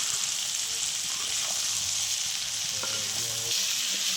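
Capsicum, carrot, beans, peas and tomato with salt sizzle in a pan for fried rice, a loud, constant frying hiss close up with occasional clinks and scrapes of a stirring spoon.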